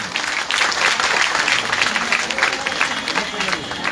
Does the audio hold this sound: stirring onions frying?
no